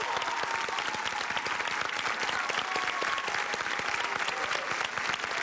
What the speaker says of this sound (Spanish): Yo creo que ella merece un aplauso de pie